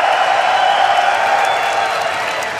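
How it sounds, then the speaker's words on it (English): Loud, dense crowd cheering and screaming at a League of Legends esports match, the 2014 EU LCS, a steady roar with whoops held for the whole span and no clear breaks. "they have been cheering for you"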